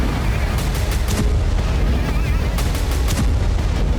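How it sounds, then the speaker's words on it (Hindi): Explosions and gunfire in Aleppo, Syria, come as loud, dense, continuous booms and cracks, with sharp bursts repeating throughout and no pauses. "सीरिया के अलेप्पो तक में धमाके हो रहे हैं"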